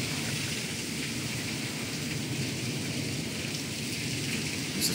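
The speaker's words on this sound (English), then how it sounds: "Not only it's raining hard, but it is thundering and lightning a lot." Heavy rain pours steadily with rumbling thunder during a storm, a continuous dense hiss with low rolling rumble underneath, heard from indoors and loud throughout.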